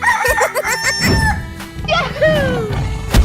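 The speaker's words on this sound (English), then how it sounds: "Chicken." A cartoon chicken in a 3D animal slide game clucks in quick bursts and then crows, loud and close, with game music underneath.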